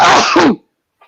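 A single sharp, loud sneeze bursts out close up, falling off within about half a second, followed by silence and a faint trailing sound.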